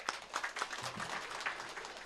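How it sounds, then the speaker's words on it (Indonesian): Steady applause from an audience at a school cadet inauguration ceremony, a dense continuous patter of many hands clapping at moderate distance. "Tepuk tangan untuk kita semuanya"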